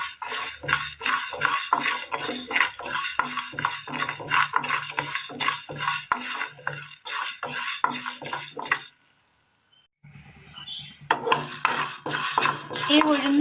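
Urad dal roasts in a pan while a spoon scrapes and clinks against the metal in quick repeated strokes, loud and busy, then a short silent break before the stirring resumes.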